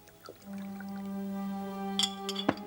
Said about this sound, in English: and pours himself a glass of sherry.